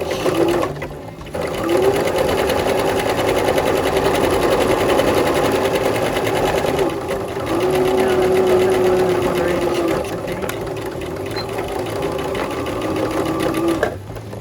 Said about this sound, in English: I'm going to start along this side, come in about 1/4 of an inch. 1/4 inch seam allowance. Back stitch.